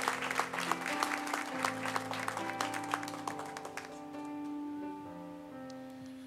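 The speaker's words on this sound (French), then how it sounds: "Je peux vraiment les applaudir et vraiment de les recevoir." Applause from a church congregation, scattered claps over a steady hum and sustained organ-like tones, fading out about two-thirds through as the held tones continue alone.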